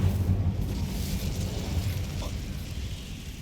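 Incendio fire spell cast in the video game Hogwarts Legacy, a sustained rumbling, crackling whoosh of flame with a low booming body that stays steady and loud throughout, with no talk over it.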